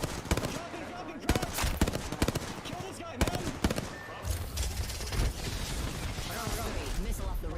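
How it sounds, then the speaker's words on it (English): Sustained gunfire during an Apex Legends pro league match, rapid bursts of shots crackling over a dense mix of game effects and team voice chat. "Opening fire."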